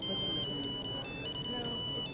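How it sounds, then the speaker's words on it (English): A cell phone plays a downloaded song as its ringtone, a steady, bright electronic melody of repeating tones that carries at a fairly loud level throughout. "download your favorite song as a cell phone ring."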